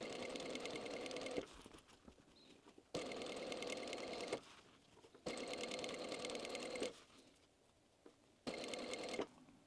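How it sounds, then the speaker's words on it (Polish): A sewing machine with a standard presser foot stitches along a zipper sewn into fabric, running in four steady, close buzzing bursts separated by short quiet pauses. "Używam tutaj zwykłej stopki i teraz przeszywam wzdłuż, oczywiście wierzchem zamku, w stronę wierzchniej części tkaniny,"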